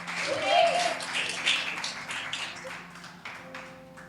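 A church congregation clapping in praise, a soft, fairly distant patter of many hands with a few louder taps, rising at first and then thinning out, over a faint held keyboard-like tone.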